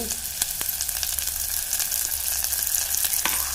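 Raw ginger garlic paste frying with mint and curry leaves for aloo matar gravy, a dense, even sizzle with light spattering pops and a few brief stirring scrapes close by.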